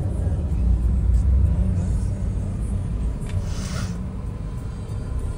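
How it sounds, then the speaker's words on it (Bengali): A small passenger train rolls past at Rose Hill, Mauritius, a steady low rumble close by that swells slightly and then holds, with a brief higher hiss partway through. "কিউট ছোট্ট একটা ট্রেন"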